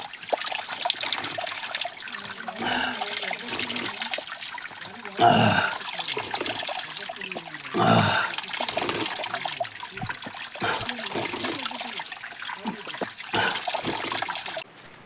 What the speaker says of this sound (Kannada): ವಾಟರ್ ಬರ್ತಾ ಇದೆ. ಇಲ್ಲೇ ಕುಡಿತಾ ಇದ್ದೀವಿ ನೀರು.